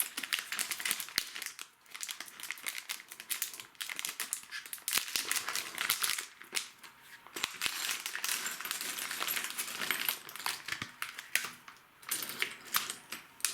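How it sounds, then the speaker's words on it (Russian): A small plastic bag holding Nakamichi banana plug connectors for speaker cables is torn open and handled, giving a steady, close run of crinkling, rustling and clicking with no one talking. "Так, и вскроем второй пакетик."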